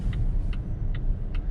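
Interior hum of a Volvo S60 cruising at a steady low speed under 50 km/h, a smooth low rumble with a faint regular ticking, like a turn signal, repeating about every 0.4 seconds.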